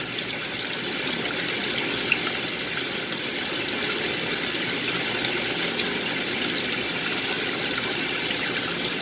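Water steadily pouring into the tub of a 1966 Frigidaire Rollermatic washing machine during a rinse fill, a constant close rushing stream with no speech.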